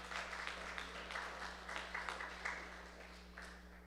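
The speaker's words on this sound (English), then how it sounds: "We applaud the life of Jim Brown." A townhall audience applauds softly and at a distance, producing a patter of scattered claps over a constant low electrical hum, with no talking.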